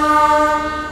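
A loud, sustained horn blast from the Nagercoil train sounds at a rail line, holding steady with a slight fade toward the end.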